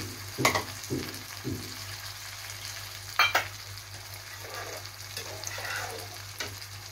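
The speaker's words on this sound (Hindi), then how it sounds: "इसे हम फ्राई होने देते हैं।" Yogurt-based spice masala frying in a pan over a very low gas flame for a dahi aloo curry, giving a soft steady sizzle with a few sharper crackles and stirring clinks, close by and without talk.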